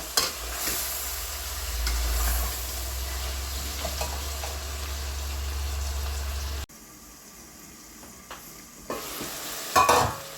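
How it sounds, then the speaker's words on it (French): Tomatoes cook in a pan with lamb, sizzling and bubbling steadily up close while a utensil stirs. A low rumble drops out partway through, then light clinks follow. "Maintenant, je vais laisser cuire légèrement les tomates."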